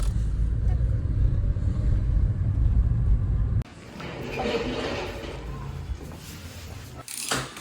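Car driving home on the road after a trip back from Kharkiv, with a steady low engine and road rumble throughout, a sudden drop in level partway through, and occasional rattles and faint talk inside the cabin.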